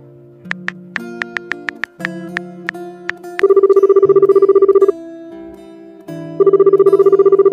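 An outgoing phone call: a few short keypad tones, then a repeating electronic ringback tone in loud, evenly spaced bursts with a pause between rings.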